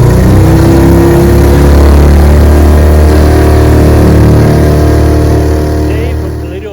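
A vintage 1948 TD20 5-horsepower outboard motor runs close and loud in gear with a steady low droning hum and rich harmonics, easing off slightly at the end.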